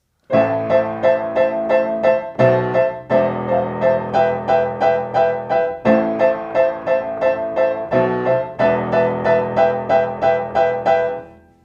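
Both hands play a song on piano, with a firm repeated chord pattern in steady, even rhythm over a low bass line, loud and close with brief breaks between phrases.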